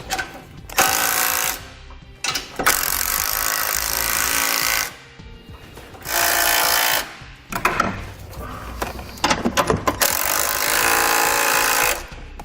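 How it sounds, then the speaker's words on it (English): Power tools run in bursts while tightening the hardware on a Roadmaster crossbar-style base plate kit. Loud sustained buzzing spans several seconds, broken by short gaps and rapid clicking impacts. "Next, we're going to go around and tighten all of our hardware."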